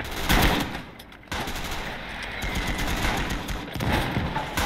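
Gunfire in the WWII strategy game Gates of Hell: Ostfront, a battle scene of repeated sharp bursts and crackling shots at moderate distance, with a heavier blast near the start and another toward the end.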